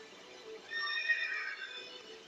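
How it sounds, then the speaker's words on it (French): Odin shifts into a horse in the game Final Fantasy XIII and gives a single neigh, bright and drawn-out over a quiet backdrop, with no speech. "vous voyez bien Odin qui peut se changer en un cheval"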